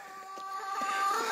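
Chickens (hens) cluck close by in a short burst of overlapping, throaty calls on a -20 degree morning in Missouri.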